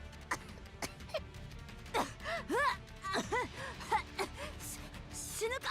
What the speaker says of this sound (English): Laplace and Drake lie on the ground, gasping for air.